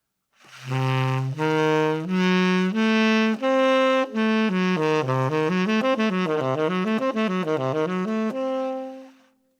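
A sustained keyboard tone steps through a few notes in rising minor-third intervals, then quick notes climb and fall in a rippling arpeggio, with no voices.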